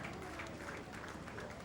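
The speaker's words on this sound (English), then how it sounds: "Please, can we clap for them one more time?" Applause from the audience at a Rotary International district governor installation, a continuous muffled wash of clapping heard at low level with faint crowd noise mixed in.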